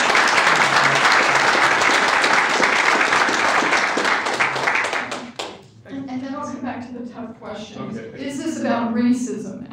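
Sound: audience applause

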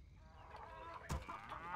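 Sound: chickens clucking in WarCraft 3 video game

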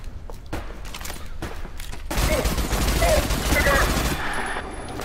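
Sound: gunfire in video game Adaca

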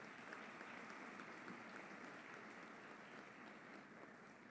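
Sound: audience applause at a ceremony

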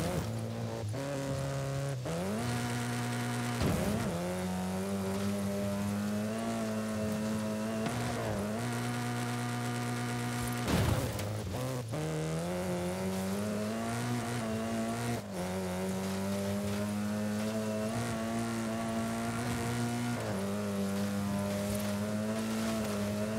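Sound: 1992 Ford Escort RS Cosworth engine revving in Forza Horizon 5 video game

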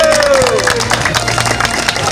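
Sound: applause from crowd at village procession

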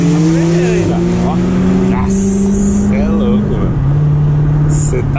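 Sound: sports car accelerating hard

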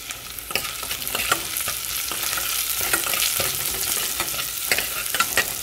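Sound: onions and curry leaves frying in oil

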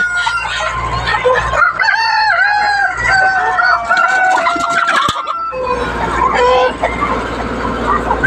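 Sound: roosters and chickens on a poultry farm

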